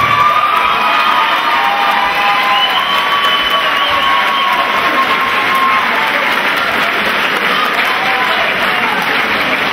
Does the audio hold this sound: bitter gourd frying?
no